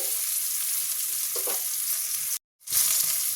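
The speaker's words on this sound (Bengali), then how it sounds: "আমার চিংড়ি মাছটাও ভাজা ভাজা হয়ে গেছে মশলার সাথে" Prawns frying with spices, onion, green chilli and garlic in a pan give a steady close sizzle with a brief stir, cut by a short silent gap near the end.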